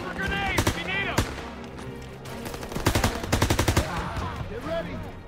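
Call of Duty: WWII gunfire crackles in bursts of rapid machine-gun shots and single cracks, loud and near, mixed with shouting voices throughout.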